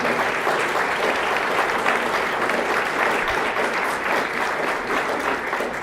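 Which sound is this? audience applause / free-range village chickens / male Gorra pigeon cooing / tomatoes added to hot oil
audience applause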